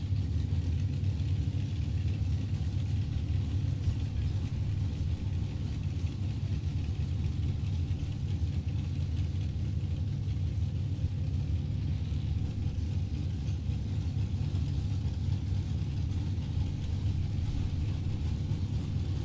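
A drag race dragster engine rumbles steadily from a distance, a low continuous droning roar that holds level throughout with no distinct revs or launches.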